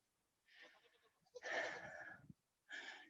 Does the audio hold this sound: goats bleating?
yes